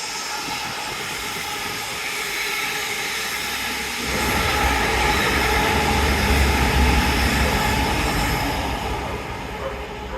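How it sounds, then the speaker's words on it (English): A train rumbles past nearby near Dawlish, its deep roar swelling midway and holding steady before slowly easing off. "Anyway, train."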